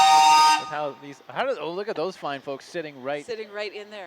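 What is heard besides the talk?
WDM steam calliope playing at parade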